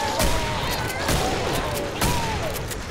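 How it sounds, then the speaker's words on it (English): Gunfire rattles in the video game Killing Floor, a loud fusillade of repeated shots with several sharp bursts over a dense, noisy background. "I'm missing all my shots."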